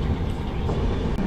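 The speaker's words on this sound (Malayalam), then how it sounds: "പാലക്കാട് സ്റ്റേഷന് ശേഷം ഏകദേശം 65 കിലോമീറ്റർ സ്പീഡിലായിരുന്നു ട്രെയിൻ സഞ്ചരിച്ചിരുന്നത്." Kochuveli Mysore Express running at about 65 km/h after Palakkad, a steady dense rumble of wheels on rails heard from inside the train, continuous and fairly loud with no voices.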